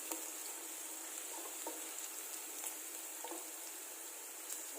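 Vegetables frying in a pan for a veg Manchurian, a steady soft sizzle with faint stirring scrapes, close and continuous with no talk.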